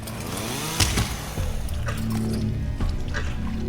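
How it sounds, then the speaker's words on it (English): A chainsaw roars in the video game Deep Sleep: Labyrinth of the Forsaken, a loud continuous buzzing that revs briefly and then holds steady for several seconds. "This is the exact scenario for doing the chainsaw."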